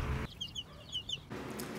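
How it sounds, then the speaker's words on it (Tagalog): Native Huluano and Bisaya chickens cluck in a short run of soft, rhythmic calls from nearby, heard fairly faintly and on their own. "Yung lahi po ng manok natin na mga native ay Huluano at Bisaya."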